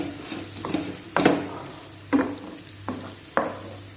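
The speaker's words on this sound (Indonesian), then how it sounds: "Kita goreng sampai dia layu." Shallots fry in a pan on a home stove, giving brief sizzling bursts each time they are stirred, about five loud surges over a low steady hiss, close by and with no talking.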